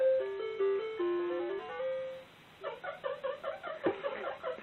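Retro video game audio played on a RetroN console: a chiptune melody of square-wave notes followed by a bouncy run of short bleeps and sound effects, clear and alone.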